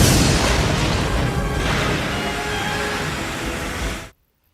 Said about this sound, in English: Another explosion rocks engineering.